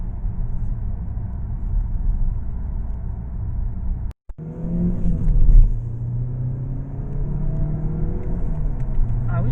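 A Mazda3 100th Anniversary edition's engine rumbles steadily from inside the cabin, then climbs in pitch as it revs under acceleration before settling back into a smooth, even drone.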